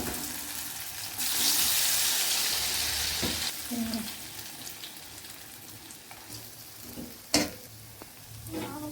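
Cauliflower pakoras fry in hot oil with a steady, loud sizzle that swells as pieces drop in. It then settles into a softer crackle, broken by a few sharp clinks of a utensil against the pan.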